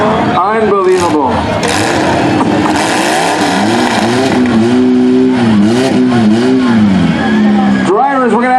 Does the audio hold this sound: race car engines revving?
yes